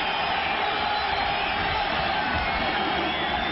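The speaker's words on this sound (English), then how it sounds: "the crowd is roaring now" A football stadium crowd roars at a 1994 Texas versus North Carolina game, a steady, dense wash of cheering voices sustained evenly throughout without any break.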